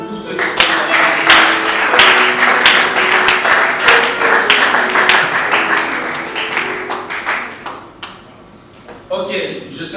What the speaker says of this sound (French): Est-ce que vous pouvez applaudir pour tous ceux qui sont là?